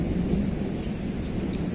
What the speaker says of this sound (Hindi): बादल बहुत ज्यादा गरज रहे हैं